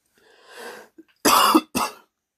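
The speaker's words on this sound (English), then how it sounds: "a cough as well" A person with a cold and blocked nose coughs twice, close and loud, a harsh double burst after a softer breathy throat sound and a brief catch.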